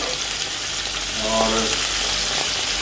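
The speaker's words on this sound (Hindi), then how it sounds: "चिकन डाल के इसको जो है ना अच्छे से फ्राई करना है" Chicken pieces fry in a pan with ginger garlic paste for a biryani, making a loud, close, continuous sizzle with a brief scrape of stirring partway through, and no one talking.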